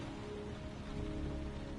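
Steady, dense rain pours continuously in the video game Heavy Rain, a close, even hiss of falling water with no voices.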